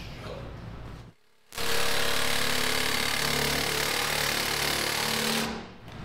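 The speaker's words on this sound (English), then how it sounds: "All right, the axles are officially chopped off." Power tool cutting through a vehicle's axles during a teardown of a Bombi, a harsh, loud, sustained grinding roar that starts after a brief lull and runs steadily for several seconds before tapering off.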